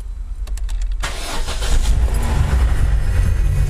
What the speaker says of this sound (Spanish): Procedo a poner el coche en marcha.